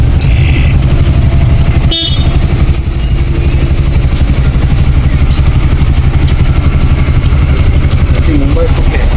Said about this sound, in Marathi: फुल ट्रॅफिक आहे हरेश्वरमध्ये